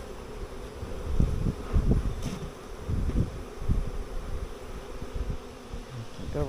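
Many honeybees buzz around a hive nearby in a continuous droning hum, rising and falling as insects fly close past, with faint rustling in the background.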